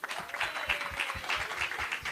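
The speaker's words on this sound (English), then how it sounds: "Manaf, please give him a round of applause." A small audience at a diaspora business event in Ghana gives a round of applause for a live-painting artist, with soft, close, uneven claps that continue steadily throughout.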